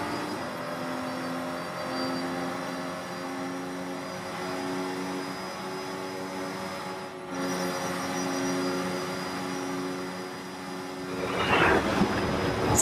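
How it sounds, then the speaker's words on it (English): A cargo plane flies over in Forza Horizon 5, a steady droning engine roar that holds for about eleven seconds and swells toward the end, with no one talking. "that is the last inbound cargo flight racing neck and neck with an AMG 1"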